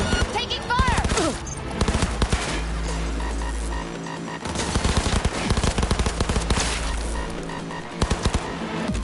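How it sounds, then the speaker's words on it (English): Rapid bursts of automatic gunfire in the video game Cyberpunk 2077, aimed at the player, crackle loudly and near in dense volleys with deep low booms underneath and brief pauses between salvos. "Taking fire!"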